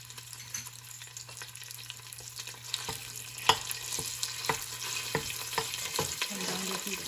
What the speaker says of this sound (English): we're going to add our curry paste. The idea is to melt the curry paste first